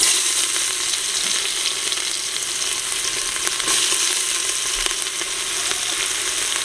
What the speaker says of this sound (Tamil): மிச்ச வெங்காயம் இதை நாங்கள் இப்போ கறிக்கில் போட போகிறோம்